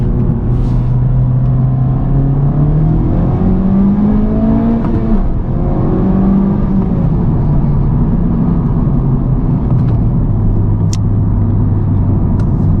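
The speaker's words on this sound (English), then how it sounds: "I'm gonna get into 2nd gear" A Honda Civic Type R engine pulls hard under acceleration, its loud rising drone climbing in pitch, dropping at a shift into second gear, then climbing again, heard close from inside the car.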